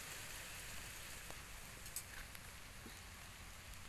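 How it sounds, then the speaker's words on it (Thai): Steady rain falls outdoors on a rural vegetable and strawberry farm, a dense, even hiss of drops on surfaces with a few louder individual drips and patters close by, no voices. "ฝนยังตกอยู่นะคะเลยต้องใส่หมวก"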